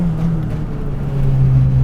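A Renault Clio 172 on semi-slick tyres under way in fifth gear, its engine giving a loud, steady, close droning hum with a constant low tone and no break.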